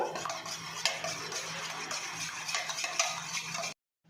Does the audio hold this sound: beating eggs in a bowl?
yes